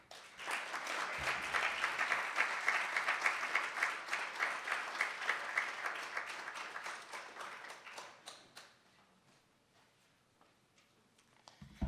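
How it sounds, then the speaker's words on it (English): An audience at a jazz awards gala gives a full, dense round of applause that holds steady for several seconds, then thins out and fades to near silence. "I love applause. Let's give him another one."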